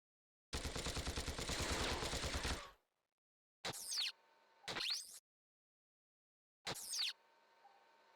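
A turret in The Thing Remastered video game fires a loud, rapid automatic burst of about two seconds. Three shorter bursts follow, each with a mechanical whine and a ringing tail.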